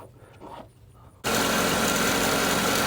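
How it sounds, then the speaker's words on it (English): A 2.4L Ecotec engine idles with the air conditioning on, heard as a steady, loud mechanical hum that cuts in abruptly after a quieter opening stretch and then holds constant. "it's not a perfect engine, but you can hear, definitely quieted down. This is with the AC running"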